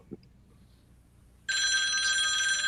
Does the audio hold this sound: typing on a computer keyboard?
no